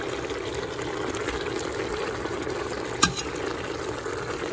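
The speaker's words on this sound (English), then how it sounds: "Just have those peppers cooking down." Peppers sizzle and cook down in a pan while making Caribbean-style oxtails, a steady soft frying hiss with one brief clink partway through.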